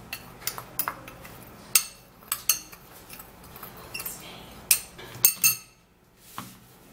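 A spoon clinks and scrapes in a bowl as a dry powder is stirred. The metallic taps come close and uneven over several seconds, with no talking.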